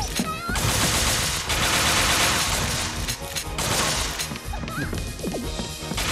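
Gunfire in the PS Vita game Bullet Girls 2: rapid bursts of shots and crashing impacts hammer loudly, with game music tones running underneath.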